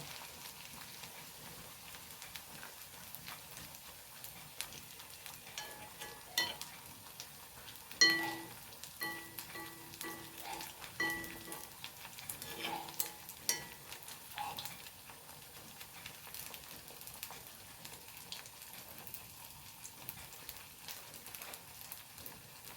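Nei pathal, a flatbread, frying in hot oil gives a faint, steady sizzle and crackle throughout, with a few soft knocks and clinks rising in the middle.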